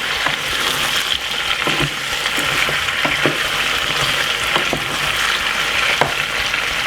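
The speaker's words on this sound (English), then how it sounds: "So as you can see, it's frying." Mixed vegetables sizzle and crackle steadily in a hot pan, close and loud, with occasional scraping knocks of a utensil as they are stirred.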